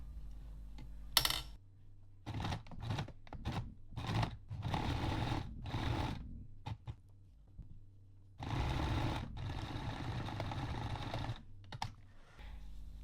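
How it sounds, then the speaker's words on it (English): A sewing machine stitches a seam on a handmade Waldorf star baby doll, running in several loud bursts of rapid whirring with short pauses between them, close up and with no talk. "So let's sew this part together. I'm starting from the top and then working down."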